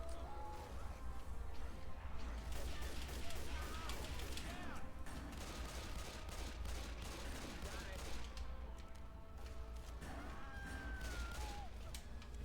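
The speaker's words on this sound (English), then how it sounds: "Shoot the damn tank." Rapid, continuous volleys of gunfire in the Rimworld colony game, with mechanical clatter and overlapping shots running steadily throughout, fairly distant and mixed with faint voices.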